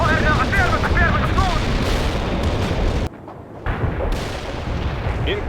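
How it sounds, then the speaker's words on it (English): A napalm strike in the video game World in Conflict, heard as a loud, steady roar of explosions and gunfire that drops away briefly before surging back, with voices speaking over it. "Napalm is on the way."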